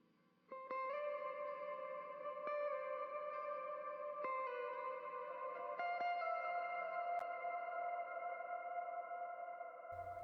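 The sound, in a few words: long reverb on distant vocal harmony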